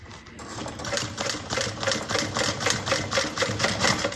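A sewing machine runs steadily at close range, top stitching a bucket bag with a fast, even mechanical chatter.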